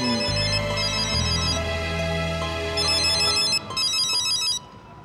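A telephone rings with a bright electronic ringtone, a repeating melodic pattern that plays loudly and steadily for several seconds over a low musical bed before cutting off, heard in a Bhojpuri film scene.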